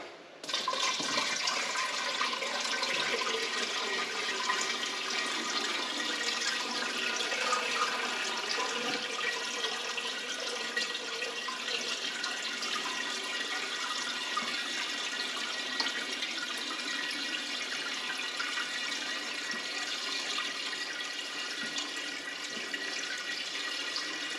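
Treated tap water pours steadily into a biOrb aquarium during a water change, about 5 litres, for a long stretch, a continuous splashing rush at moderate level with no talking.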